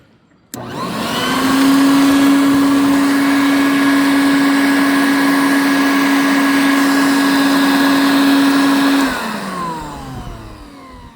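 A vacuum cleaner switches on, hums loudly and steadily with a high whine for several seconds, then powers down and winds off.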